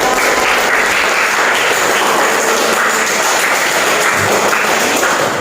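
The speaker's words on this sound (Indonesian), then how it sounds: "Beri tepuk tangan dulu buat kelompok 3." A group of people applauding a class performance, with dense, steady clapping that stays loud and continuous throughout.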